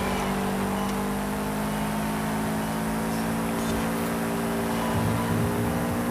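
Race car engine in Forza Horizon 5, a car tuned to B700 class, droning steadily at a sustained pitch with a brief rise in revs near the end, loud and continuous with no talk.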